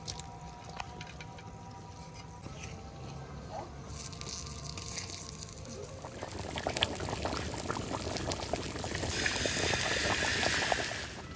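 Hot water bubbles and hisses in a pot while rice-flour dosa and duck curry are being made for a family winter meal, the boiling rising louder and denser toward the end.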